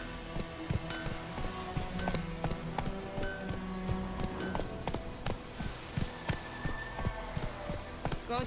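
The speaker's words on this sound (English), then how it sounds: "Run, Roach" Rhythmic clip-clop hoofbeats of a horse galloping in The Witcher 3, steady and continuous throughout, set among game ambience and music with occasional sharp effects.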